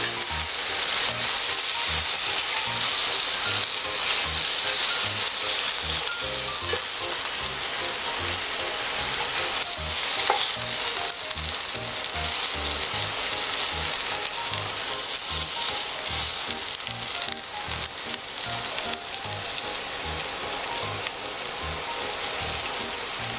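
Veal paupiettes browning in a frying pan give a loud, steady sizzle and crackle throughout, with no talking.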